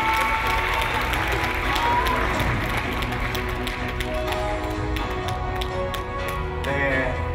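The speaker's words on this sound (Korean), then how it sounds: "뜨거운 박수 부탁드리겠습니다." An audience at a Korean arts school award ceremony applauds warmly for an honoured professor, a steady full wash of clapping with some cheering mixed in, sustained at even loudness.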